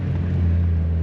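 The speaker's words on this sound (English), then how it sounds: "Let's check a downshift." A Mazda Miata engine hums steadily at low revs during a downshift, giving a close, even drone with no voices.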